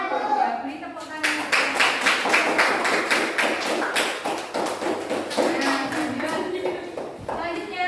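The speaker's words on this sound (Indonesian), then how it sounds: "Ya, beri tepuk tangan." Applause breaks out from a class audience after a group presentation, a dense burst of hand claps lasting several seconds, with a voice and talk heard at the start and under the clapping.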